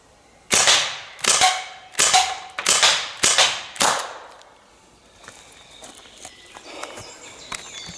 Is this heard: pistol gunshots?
yes